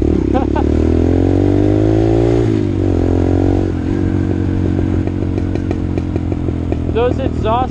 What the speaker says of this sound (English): Those exhaust pops are so nice.